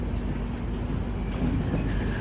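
Karnataka Sampark Kranti Express from Hazrat Nizamuddin to Yesvantpur running along the line, curving as it goes; a low, continuous rumble of the moving train, fairly steady and heard alone without voices.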